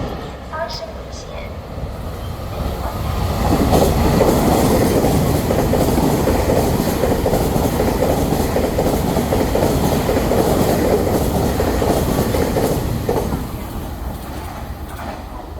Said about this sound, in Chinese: 将有列车通过，敬请不要靠近月台边，以免发生危险。